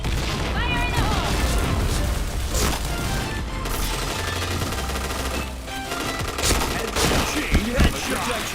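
Loud in-game explosions and heavy gunfire from a PointBlank match, a grenade blast landing amid rapid automatic shots and booms that continue steadily throughout, with a voice calling out over the chaotic battle noise.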